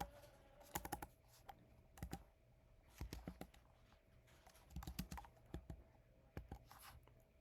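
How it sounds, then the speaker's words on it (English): Quick bursts of keystrokes on a computer keyboard, typed in short irregular clusters with brief pauses between, close and fairly quiet against a faint steady hum. "And so I'm going to type in Cambodia."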